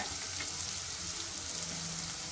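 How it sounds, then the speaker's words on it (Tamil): Green chillies and finely chopped ginger fry with onions in hot oil for ragi rava upma, giving a steady, dense sizzle that holds evenly throughout with no talking. "2 பச்சை மிளகா, கொஞ்சம் நல்லா பொடியாக அரிஞ்சு வச்ச இஞ்சி போட்டுக்கோங்க"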